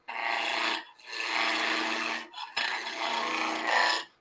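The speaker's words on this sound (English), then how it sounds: "this is the peeling cut that I would normally kind of use" Wood lathe turning tool taking peeling cuts on spinning wood, a close, rough rasping and scraping in three long bursts separated by brief pauses, with no talk.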